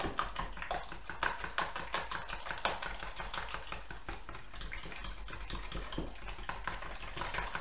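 Milk being stirred into a custard tart filling in a bowl, giving steady quick scraping and clinking strokes close by with no talking.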